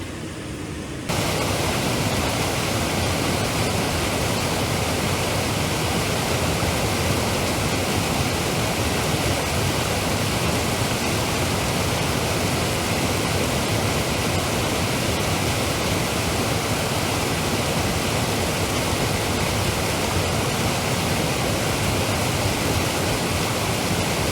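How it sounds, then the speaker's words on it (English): A steady, dense rush of a cascading waterfall roars without pause, full and close, with no voices over it, on the Big South Trail in Poudre Canyon. "cascading waterfalls to eat to."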